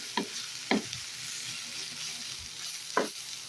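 Bitter gourd and egg being stirred in a frying pan: a soft, steady sizzle broken by three distinct spatula knocks and scrapes, close by and moderately quiet.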